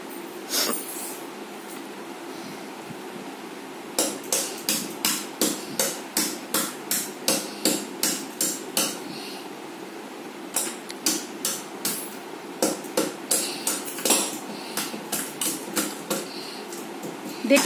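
Hammer blows cracking a red clay pot, sharp knocks in regular bursts of several strikes with short pauses between, close and fairly loud against a quiet background.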